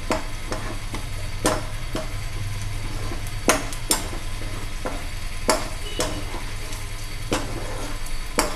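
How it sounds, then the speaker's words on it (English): Mutton pieces frying in a pan with garlic, a continuous low sizzle broken by sharp scraping clatters of a spoon stirring every second or so, close and steady with no talking. "fry them till golden brown color."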